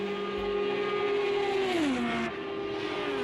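Chip Ganassi Chevrolet IndyCar and rival cars in a racing video game on the Texas Motor Speedway oval, engines droning loud and steady with pitch sliding down as a car lifts through the final corner.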